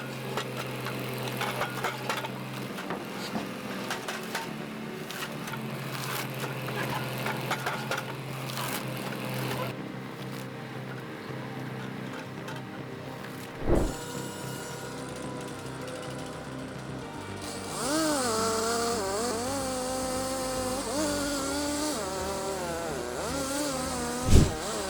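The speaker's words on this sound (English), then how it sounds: "The Naarva S23 has the functions of cutting trees, pruning and splitting firewood." Naarva S23 forestry machine cutting a tree with its chainsaw, a sustained rattling engine drone under mechanical clatter, with louder cutting bursts and rising whine in the later part and a couple of sharp knocks.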